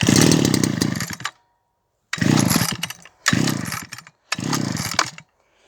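A 1984 Echo SRM 300E two-stroke brush cutter engine, recently repaired, is pulled with the choke up: a loud, raspy sputter runs about a second, then three more short bursts follow, each about a second long and separated by brief silences.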